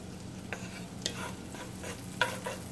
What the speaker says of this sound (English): And then I have a few red peppers I'm just gonna saute